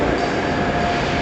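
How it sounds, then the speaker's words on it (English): Grand Central Class 180 diesel unit, number 180112, rumbling steadily at close range with a continuous broadband roar and faint high whine, no pauses across the short stretch. "a train is being named after our father, Alfred Wight."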